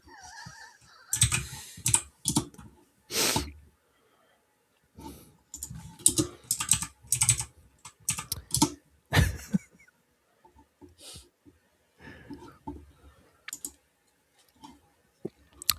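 Someone types on a computer keyboard in irregular bursts of clicky keystrokes, close and fairly loud, with pauses between runs and a couple of stronger key thumps.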